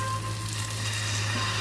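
Wheat flour batter sizzling in a lightly oiled frying pan, a steady close hiss with a low hum underneath, no speech.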